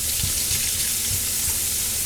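Chopped ham frying in a pan for breakfast burritos, a steady close sizzle with occasional soft scraping stirs, no voices.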